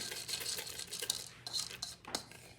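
Whole cloves tipped into a cooking pot for homemade elderberry syrup, giving quiet, close clicks and light rattles against the metal in quick scattered bursts.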